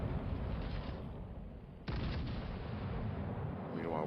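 The King George V battleship fires HE shells in the naval video game World of Warships Legends. Heavy booming gunfire sits over a continuous roar of battle noise, with a sharp new salvo midway.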